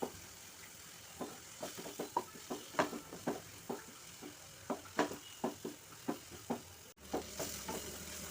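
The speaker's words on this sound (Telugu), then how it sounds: "ఇవంతా కొంచెం ఆయిల్లో ఫ్రై పచ్చివాసన పోయే వరకు ఫ్రై చేద్దాం." Ground coriander, cumin and fenugreek powder fry in oil for a fish tamarind stew, a steady soft sizzle under repeated sharp clicks and scrapes of a spoon stirring in the pan, with no talking.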